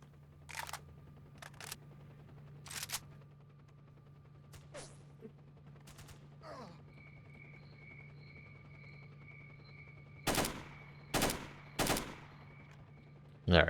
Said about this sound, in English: the fast-firing AK is accurate, but it's probably not that accurate